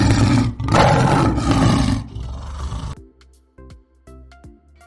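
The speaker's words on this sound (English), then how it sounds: "the sound of lion" A lion gives a deep, loud roar in heavy bursts over the first three seconds, then trails off into quieter grunting huffs and short low breaths, with no talk around it.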